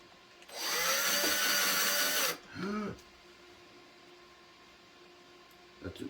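A power drill whirs loudly for about two seconds driving a screw into a box fan air purifier, followed by a shorter, lower burst of the drill and then quiet.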